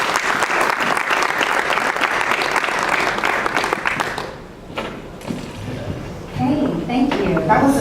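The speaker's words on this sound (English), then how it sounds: "big round of applause" A blockchain conference audience gives a loud round of applause for about four seconds, then it drops away into quieter room noise as a voice begins speaking.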